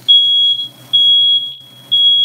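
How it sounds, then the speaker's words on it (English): A smoke detector set off by cooking sausages and pork sounds three loud, steady high-pitched beeps in a slow repeating pattern, close and clear over a faint background hum. "Hey, at least the smoke detector still works."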